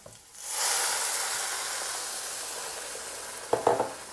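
Water hits a pan of frying meat and cubed potatoes with vermicelli and bursts into a loud, steady sizzle and hiss, followed by a few clinks near the end.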